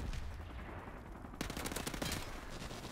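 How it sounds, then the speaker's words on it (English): Rapid automatic gunfire in Call of Duty Modern Warfare Remastered during a team deathmatch on the Vacant map, with a dense burst of loud shots erupting over steady background noise and continuing for over a second. "I heard the gunshot."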